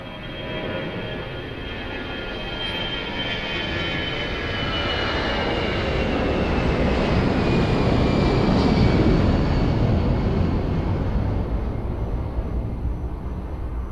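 An airliner takes off at Lisbon Airport with a loud broadband jet roar that builds steadily and then holds, while thin engine whines sweep across the rumble.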